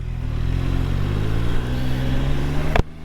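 Triumph Tiger Sport 660 motorcycle pulls away, its engine note rising steadily and loud nearby, then cutting off abruptly near the end.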